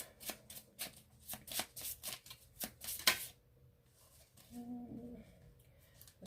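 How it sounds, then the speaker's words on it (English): Tarot cards shuffled in the hands, a run of crisp riffling bursts in an uneven rhythm, close and moderately loud, followed by quieter handling with a faint background chirp. "Okay, let's take a few cards."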